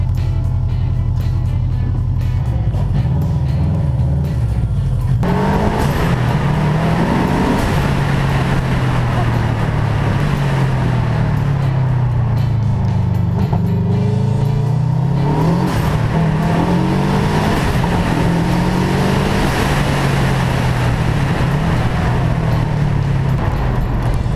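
An AEM 818R custom car on a test ride, heard from inside: deep engine drone that rises and falls through gear changes, with rising revving sweeps and loud, continuous road noise, and someone talking briefly.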